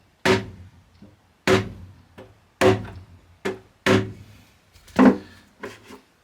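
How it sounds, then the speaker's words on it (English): A leather-faced hammer giving gentle taps while marking drill holes in guitar repair work: six soft, dull thunks spaced about a second apart, each with a short decay, close and clear with no talk. "And my leather faced hammer. Just get a couple of gentle taps."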